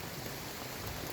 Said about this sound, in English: it's raining now, full on.